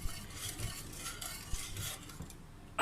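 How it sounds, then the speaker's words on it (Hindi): A wooden spoon stirs rice kheer with nuts and raisins in a pot, a soft repeated scraping and slushing swirl with a couple of light knocks, ending in a sharper clatter. "अभी इसको मैं इतना मिक्स करूँगी कि ये चावल बिल्कुल इसमें गुठलियाँ ख़त्म हो"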